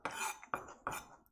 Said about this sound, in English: just move the knife up and down the knuckle